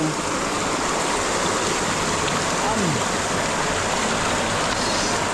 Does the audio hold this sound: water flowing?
yes